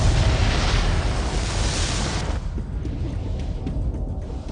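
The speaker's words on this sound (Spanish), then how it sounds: "La pura y terrible belleza de una explosión verdaderamente dramática desde dentro." A huge, dramatic antimatter explosion roars with a dense, loud, full-bodied blast for about two seconds, then drops to a lower, lingering rumble that carries on to the end.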